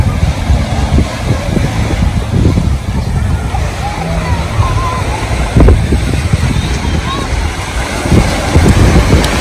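Sea waves and wind on a beach make a loud, continuous rush with heavy gusts buffeting the microphone, and voices are heard talking over the noise.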